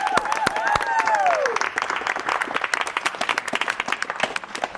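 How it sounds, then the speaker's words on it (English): Indoor audience applause at a live media panel event in Manchester, a sustained round of clapping that thins toward the end, with brief voices and whoops rising over it at the start. "Everyone, please give a warm round of applause."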